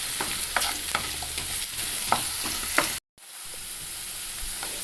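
Potato pieces fry in hot oil for a vegetable potato masala curry, giving a steady, close sizzle broken by scraping stirs, with a brief cut near the end and no talking.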